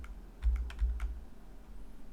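A short burst of several keystrokes on a computer keyboard, close and crisp, followed by quiet room tone.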